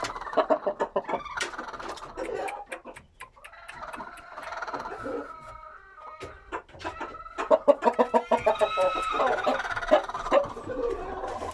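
Chickens in a coop clucking and calling, a busy mix of overlapping clucks and rhythmic bursts of cackling from several birds nearby, loudest toward the end.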